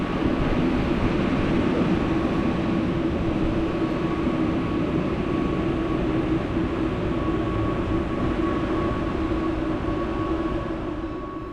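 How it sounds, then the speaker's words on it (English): A Glacier Express panoramic tourist train rumbles past nearby with a steady, continuous roar and a faint hum, fading slightly at the end, no voices. "Passing us now is one of the Glacier Express panoramic tourist trains"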